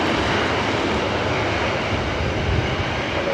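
A heavy airliner roars through touchdown on the runway at LAX, a dense, steady engine and wind rush heard from a distance, loud and unbroken for a few seconds.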